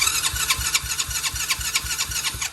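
A Tao Tao 125cc engine cranks over with the choke on, a rapid, even series of starter pulses churning repeatedly up close without catching, no voices over it.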